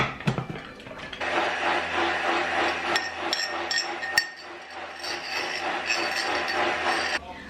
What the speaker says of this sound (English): let's blend that up again